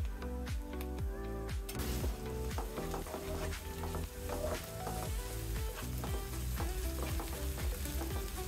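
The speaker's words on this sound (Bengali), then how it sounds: "1 চা চামচের মতো আদা রসুন বাটা দিয়ে দিব" Onions frying with ginger garlic paste in hot oil, a dense, steady, loud sizzle that runs throughout with occasional stirring scrapes.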